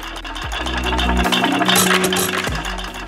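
Hit and miss engine with a massive flywheel runs with rhythmic mechanical thumping and rattling, loud and close, its tone shifting as it fires then coasts.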